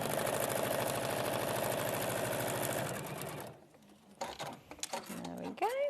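A sewing machine stitches a fabric quilt block in a steady, rapid mechanical whir for about three seconds, then stops, followed by quieter handling noises and someone talking.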